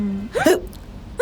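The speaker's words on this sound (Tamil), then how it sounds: "விக்கல் இருந்துச்சுல்ல" A single hiccup, close and fairly loud, from a person in a casual home setting, with a brief voiced sound leading into it.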